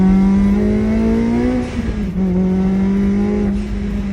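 Honda Civic FN2 Type R engine revving hard while driving a sharp bend, its tone climbing steadily, dipping briefly on a gear change, then pulling again, loud and close with no talk.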